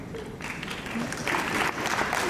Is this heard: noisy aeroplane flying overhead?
no